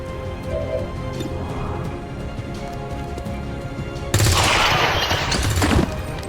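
Gunfire in XCOM 2: War of the Chosen, a steady crackling fusillade at moderate distance that surges into a loud, dense burst of shots and debris near the end.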